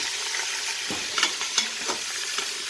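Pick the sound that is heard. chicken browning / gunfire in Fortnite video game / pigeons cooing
chicken browning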